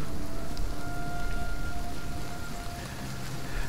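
Steady, wetting rain falls in the video game Ravage Livonia, a dense, even hiss of drops that holds throughout with no voices.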